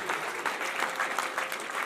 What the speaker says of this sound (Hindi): जोरदार तालियां भाई सेवा समिति मालिया के लिए